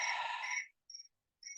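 Crickets chirp in a dense, loud burst, then two short isolated chirps follow after pauses, close by with birds in a quiet outdoor setting.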